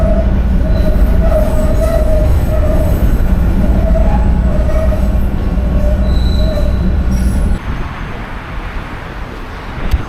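A Chicago train ride on a cold day, loud continuous rumble of wheels on rails with squealing tones, easing to a quieter hum near the end.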